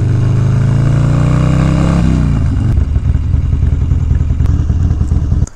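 Motorcycle engine running close and loud, holding a steady drone that drops in pitch partway through, then settling into a rough, chugging idle before it cuts off at the end.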